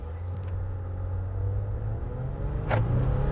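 A 2020 Ram 1500 Rebel EcoDiesel quad cab 4x4 pulls away from a standstill, heard from inside the cab as a steady, loud low rumble of engine and road noise that swells slightly as it gains speed.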